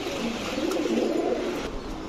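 Pigeons cooing softly while being handled at a market stall selling racer, Giribaz and fancy breeds, a low steady murmur of calls with faint rustling, close by and without talk.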